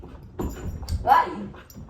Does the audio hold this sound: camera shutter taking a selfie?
no